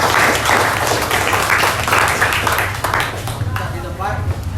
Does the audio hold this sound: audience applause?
yes